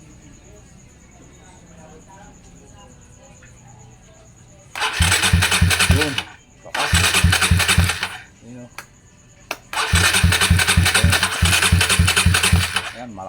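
A Suzuki Raider 150 motorcycle fitted with an MSD ignition coil cranks and fires in three loud bursts of engine sound with short gaps between them, and someone speaks briefly before and between the starts.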